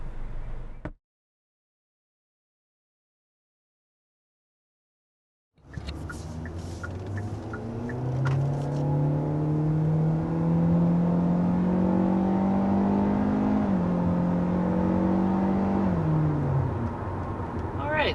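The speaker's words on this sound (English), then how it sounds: "accelerating up to 60 miles per hour in the 2023 Hyundai Elantra" A 2023 Hyundai Elantra with the standard engine accelerates up a steep hill to 60 mph, heard from inside as a steady drone that rises, dips at a shift, then climbs again, after a short silent gap at the start.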